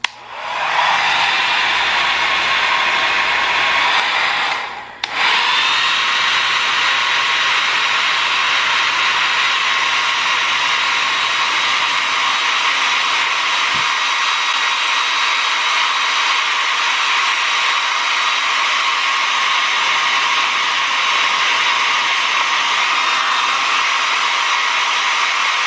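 A hair dryer blows steadily on a dog's face during grooming, a loud, constant whirring rush with a brief cut-off near the start before running on uninterrupted, with no voices.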